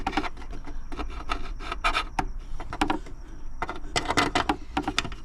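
Small scraping, rubbing and clicking noises come from a potentiometer being pushed into a freshly drilled hole in the dash of a 1972 Datsun 240Z, a quick irregular series of close handling sounds with short pauses between them.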